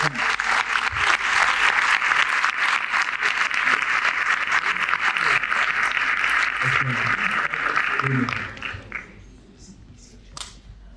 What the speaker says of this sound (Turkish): Ödül alacak ismi açıklamak üzere ve ödülü takdim etmek üzere Mehmet Esasoğlu'nu alkışlarınızla sahneye davet ediyoruz